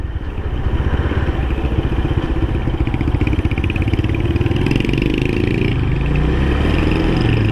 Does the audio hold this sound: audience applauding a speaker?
no